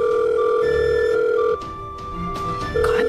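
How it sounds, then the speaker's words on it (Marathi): A telephone ringback tone sounds as a call waits to be answered, steady repeating tones with a brief pause mid-way, loud and close with no talking over it. "फोन उचल."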